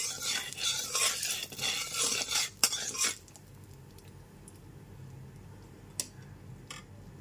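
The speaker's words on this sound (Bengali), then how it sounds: "এবার গ্যাসের ফ্লেমটা লোতে রেখে খুব ভালো মতো মিশিয়ে নিচ্ছি" A spatula stirs a Kashmiri chili powder mixture in a pan over a low flame, with scraping and sizzling for the first three seconds, then quieter gentle frying broken by a couple of sharp metal clinks.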